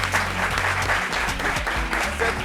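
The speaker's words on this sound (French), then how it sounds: "On applaudit pour lui, s'il vous plaît." A TV studio audience claps to welcome a guest, a guest who is a model, onto the set. The applause is dense and continuous, with low music or rumble underneath throughout.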